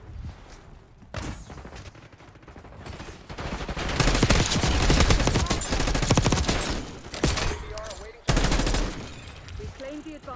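Shotgun blasts and heavy gunfire ring out in a Black Ops 6 multiplayer match on the Babylon map, loud and dense, with a burst of bangs near the middle and sharp shots after a brief drop, mixed with game voices.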